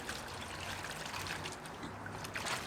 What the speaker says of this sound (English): We'll just chuck it into our warmish hot water and give it a good swirl around.